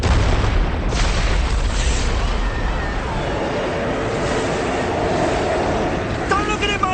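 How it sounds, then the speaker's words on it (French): A bomb blast in a street scene of a Dune Messiah TV adaptation hits as a deep rumbling boom, then fades into a sustained roar of debris with voices over it. "Les ennemis de Paul commettent un attentat à la bombe."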